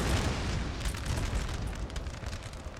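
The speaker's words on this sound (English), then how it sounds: "Let's see some pretty heavy artillery." Heavy artillery fire in the Napoleon: Total War battle, staged as a World War I-style trench fight, rumbles as continuous dense booms and crackling blasts, loud and layered throughout with no pauses.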